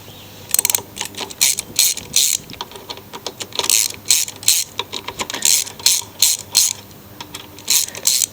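A hand ratchet clicks in repeated bursts of quick, sharp pawl ticks while loosening the carburetor bolts on a lawn mower, close and loud with short pauses between strokes.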